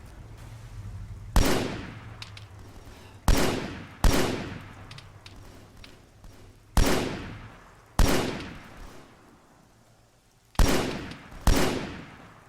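Video game gunfire from a military shooter: seven sharp, loud shots spaced irregularly over several seconds, each with a decaying echo tail, over a low background hum.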